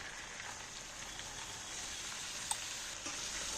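Onion and tomato paste sizzles steadily in a hot pan alongside ginger paste for a chicken curry gravy, a soft continuous frying hiss with a faint tap or two and no voices.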